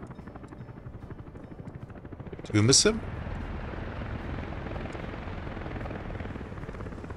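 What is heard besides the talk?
helicopter flying, from a video game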